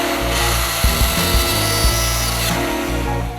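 A rotary power tool fitted with a larger burr grinds into bone while enlarging the eye of a carved dolphin: a loud, steady, close whine with a few short bursts of heavier grinding as the bit bites in.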